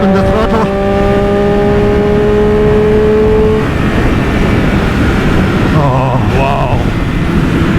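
Engine of a 2020 Triumph Daytona 765 Moto2 motorcycle screams loudly at high revs as the throttle is held open, with a gear change and the pitch dropping then climbing again, plus steady wind rush.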